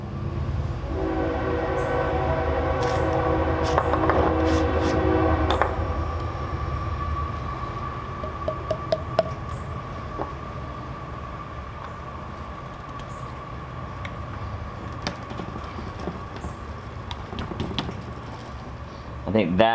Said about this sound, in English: Hey, train's here.